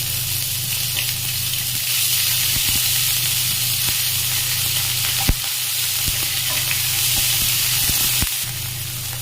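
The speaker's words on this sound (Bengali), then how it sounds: "এবার মাংসের টুকরো আর রসুন দিয়ে দিলাম" Chicken pieces and garlic frying in refined oil in a kadai, a loud continuous sizzle with stirring scrapes and occasional sharp utensil knocks, no speech.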